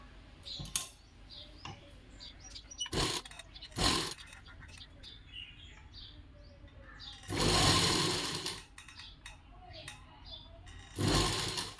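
A sewing machine stitches a blouse sleeve in short bursts, several loud separate runs of whirring, with a voice talking quietly in between.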